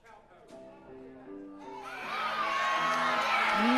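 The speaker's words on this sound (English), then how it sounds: "Listen to this crowd." A wrestling event crowd swells from scattered shouts into loud, sustained cheering and whooping, with music and a voice underneath at the start.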